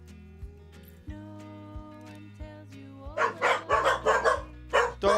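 Several dogs bark in a rapid run of loud, close bursts, breaking in over a steady electronic music drone with sustained tones.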